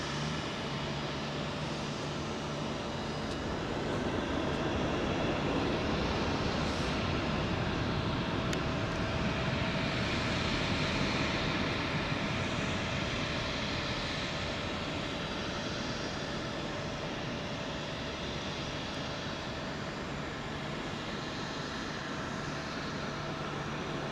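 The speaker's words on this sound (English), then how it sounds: "We should get Qatar 380 going out before the switch over" A Qatar Airways Airbus A380 departing London Heathrow's runway 27L, heard as a sustained, broad engine roar that swells over several seconds and then holds steady at a distance, with no talk.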